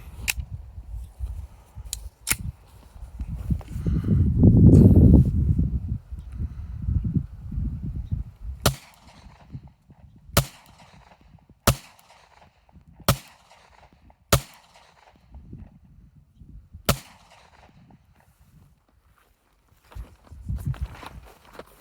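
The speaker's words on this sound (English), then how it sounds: "We'll switch back and let her do some more shooting." Glock 43 pistol fired at a shooting range, sharp isolated gunshots spaced about a second apart in a steady series, near and loud against quiet, after a stretch of low handling noise and muffled movement.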